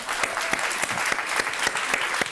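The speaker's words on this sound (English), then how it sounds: "Give them another round of applause, please." Audience applause for a panel at a food-systems event, a steady burst of many hands clapping with distinct sharp claps throughout, loud and close.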